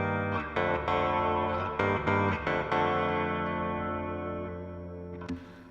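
Chapman Stick run through effects, sustained chorused and distorted bass tones with repeated plucked attacks, fading into a long ringing decay before a final bright accent.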